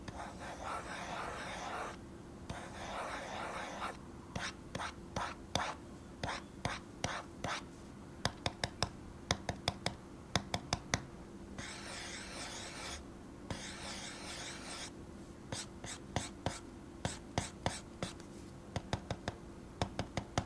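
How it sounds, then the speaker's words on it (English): A hard plastic pen nib drags over a matte textured drawing tablet surface in close, dry, scratchy strokes, some long rasps and some quick repeated ticks, with quiet ambient hiss beneath. "The hard plastic nib provides a nice tactile drawing experience on this matte textured surface"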